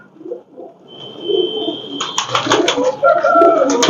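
Pakistani breeder pigeons coo in soft, low, repeated calls close by. A brighter burst of rustling and fluttering builds partway through.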